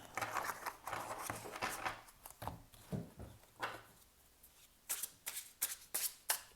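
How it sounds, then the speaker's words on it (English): A new deck of tarot cards being riffle shuffled close by, a series of quick, crisp fluttering bursts that build to sharp riffling snaps near the end, with no talk over them. "I'm going to do one more riffle shuffle because these are new and I haven't read with them yet."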